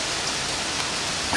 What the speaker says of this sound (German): Hat gehagelt gerade wie Sau. Jetzt regnet's.